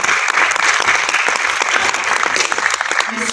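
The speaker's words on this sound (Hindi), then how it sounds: "मैं चाहूँगी कि आगाज़ में हम सब उनके लिए तालियां" A crowd at a Punjabi poetry gathering in an arts council hall claps loudly and densely, brisk applause filling a few seconds with no pause.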